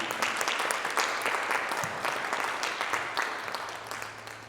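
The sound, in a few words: audience applause welcoming church visitors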